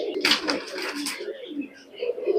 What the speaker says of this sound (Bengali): কবুতার জোড়াটা ছেড়ে দেখেন